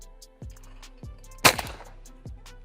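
A single loud shotgun blast rings out at a clay shooting range, aimed at a clay target, with quieter distant pops and clicks before and after it.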